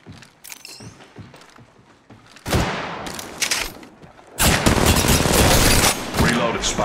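Rapid gunfire bursts from the mobile shooter game Apex Legends Mobile, starting as scattered shots and building into dense, loud sustained automatic fire in the second half.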